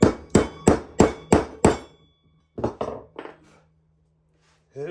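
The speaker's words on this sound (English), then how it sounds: "hit it with your hammer" A steel hammer strikes a metal punch set on a table leg to mark a dimple, with six rapid sharp clangs close by, then a few softer taps after a pause.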